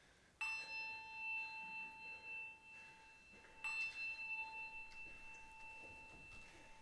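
A bell rings out in a quiet theatre, two clear strikes a few seconds apart, each leaving a long, slowly fading ring.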